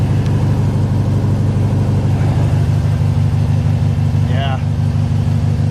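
A VW Beetle engine idles after a cold start with a steady low rumble that holds level throughout, close to the microphone, with a brief spoken word over it.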